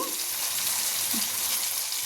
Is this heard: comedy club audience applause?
no